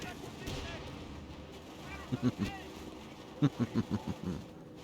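A grenade bursts in Company of Heroes 3, followed by a run of sharp, evenly spaced booms and gunfire in the middle distance.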